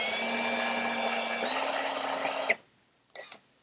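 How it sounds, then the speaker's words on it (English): A power drill whirs steadily at high speed while countersinking a screw hole in a wooden window casing, its pitch dipping briefly midway before it cuts off abruptly, followed by a short faint clatter. "I'm going to taper the hole with countersink"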